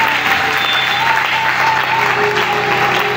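A crowd at a Bible seminar applauds loudly and steadily, a dense, continuous clapping that holds at full strength for the whole few seconds without fading.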